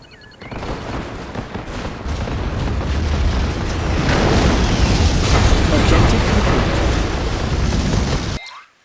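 The Iron Curtain superweapon being destroyed in Red Alert 3, a long, loud rolling wall of explosions and gunfire that builds and then cuts off abruptly.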